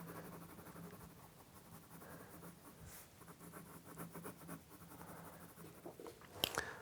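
Soft, faint scratchy strokes of a coloured pencil shading lightly on paper, quiet and close, with a small clatter near the end.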